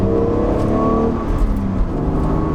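A BMW Z4's engine revs hard and steady, a loud close whirring drone that eases slightly as the throttle is let off, with no talk.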